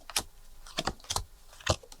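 Cards from an EPCC Salem deck are handled up close and softly, with four short crisp clicks and rustles spread unevenly across the moment. There is no voice.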